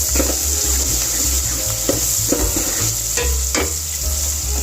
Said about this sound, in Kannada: ಈರುಳ್ಳಿ ಫ್ರೈ ಆಗೋ ತನಕ ಮೀಡಿಯಂ ಫ್ಲೇಮಲ್ಲಿ ಇದನ್ನ ಇಟ್ಕೋಬೇಕು ಮೀಡಿಯಂ ಫ್ಲೇಮಲ್ಲಿ ಫ್ರೈ ಮಾಡ್ತಾ ಇದ್ದೀನಿ ಇದನ್ನ